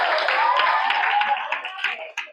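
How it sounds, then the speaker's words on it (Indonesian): Classroom applause from students clapping for classmates on cleaning duty, a dense steady patter of many hands lasting a couple of seconds before trailing off. "Tepuk tangan untuk yang piket."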